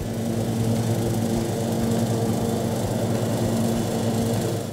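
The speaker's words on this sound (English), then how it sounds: "This is your average riding mower, a shining beacon of civilized domestic landscaping." A riding lawn mower engine runs continuously at a steady pitch, a close and moderately loud buzzing drone with no speech.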